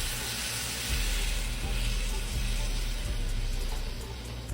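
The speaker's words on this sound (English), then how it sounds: "right at this point I'm gonna add my broth" Broth poured into a hot pan of onions for smothered pork chop gravy, giving a steady, loud hissing sizzle that runs throughout with low bubbling underneath.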